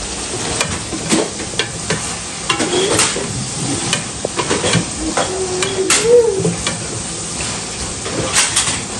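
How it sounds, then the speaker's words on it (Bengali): Luchi flatbread frying in hot oil, a steady broadband sizzle with scattered clinks and stirring scrapes, moderately close, with no talk. "এখানে হচ্ছে লুচি, যে লুচি রান্না করতেছে"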